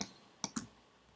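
Computer mouse clicking while the Photoshop pen tool draws a path: one faint click at the start, then two sharp, close clicks in quick succession, over quiet background hiss.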